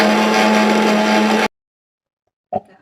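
A mixer grinder whirs loudly and steadily while blending green paste for chicken biryani, then stops dead, leaving silence before a brief clatter of the jar.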